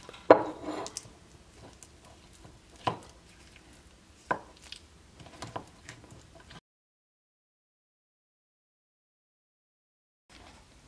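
Cheesy bread topping of jalapeno popper mix with mayonnaise stirred in a bowl: a few sharp scraping knocks and clicks, close and fairly faint, separated by quieter gaps, then silence.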